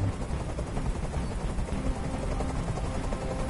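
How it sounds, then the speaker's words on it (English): A helicopter in the video game Detroit: Become Human: its rotor chops steadily, with dense broadband engine noise filling the air at a constant, fairly loud level throughout. "I can't stand that noise anymore. Tell that helicopter to get out of here."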